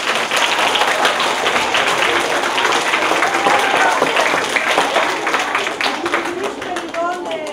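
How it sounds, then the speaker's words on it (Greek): An audience at a children's book day event applauds first-grade schoolchildren with dense, sustained clapping that fills the room, fading slightly toward the end. "Ένα χειροκρότημα για τα παιδιά."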